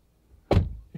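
A single soft Audi R8 door thunk, closing without a slam, followed by a faint latch click a moment later.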